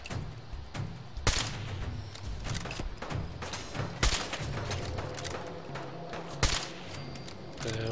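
Gunfire in the Fallout 4 video game comes as repeated sharp shots and thuds over a dense, continuous background of game combat noise, with a few louder bangs standing out.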